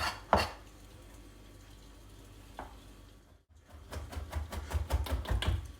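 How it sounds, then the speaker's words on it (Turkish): A knife chops dried cured meats such as pastirma and salami on a board. An isolated knock comes first, then a brief pause, then a quick run of rapid, close chopping strokes. "Bunları küçük küçük doğruyoruz."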